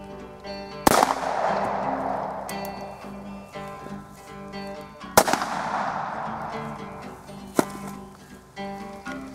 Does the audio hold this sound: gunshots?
yes